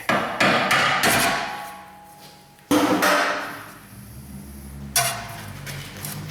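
Sharp metallic hammer strikes on a bolt during rear knuckle bushing work on a Ford Taurus, a quick cluster at first, then single hard blows with ringing decay in between; close and loud.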